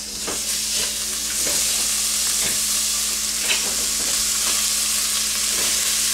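Hamburger meat fries in a little oil in a pan while being stirred for taco soup; a steady close sizzle with repeated scraping stir strokes runs throughout, no talking.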